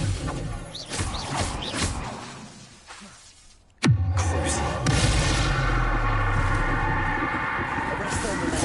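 A Bombarda blasting spell in Hogwarts Legacy lands with a sudden loud explosive crack after a quieter lull, followed by a sustained rumbling, shattering roar. A voice speaks over the din earlier on.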